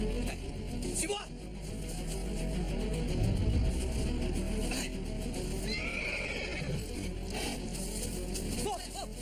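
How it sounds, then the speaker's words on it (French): A horse neighs and whinnies with clip-clopping hooves outdoors near a beach, heard at moderate distance alongside background noise and voices. "Hé, notre cheval!"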